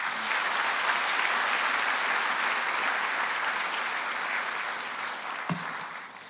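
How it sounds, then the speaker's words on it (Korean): A church congregation at a Friday prayer meeting applauds warmly. The clapping is dense and sustained, then tapers toward the end, with a single knock just before it fades. "다시 한번 뜨거운 박수로 응원해 주시죠."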